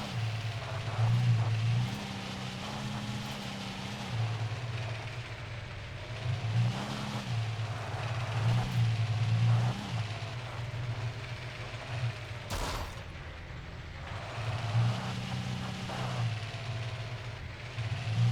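A car engine in the video game Alan Wake Remastered drones steadily throughout, its pitch rising and falling in repeated surges as if revving, with a brief sharp knock partway through and no voices.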